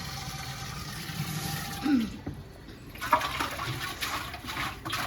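Water sloshes and splashes up close as a clay pot is rinsed, a steady wet wash with a few brief clinks.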